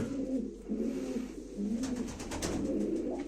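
Pigeons cooing at a live pigeon auction, overlapping low throaty coos from several birds close by, continuous over a faint background hum.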